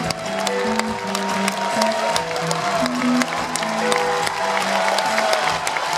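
A concert audience at Crocus City Hall claps steadily throughout, a dense sustained wash of applause from a large hall, with music-like tones faintly underneath.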